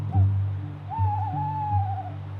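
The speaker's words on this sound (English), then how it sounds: "Mrs Kes hears the tawny owls calling outside." Tawny owls hoot outside at night, a wavering drawn-out call over low steady rumble, carrying clearly with no talk.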